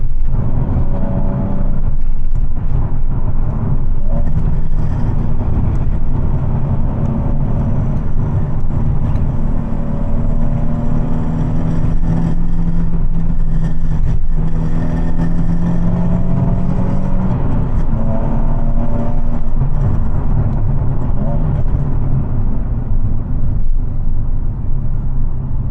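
A Nissan 370Z with a short shifter installed, cruising in fourth gear: a steady, loud engine drone with whirring road rumble that holds an even tone throughout, with no talk over it.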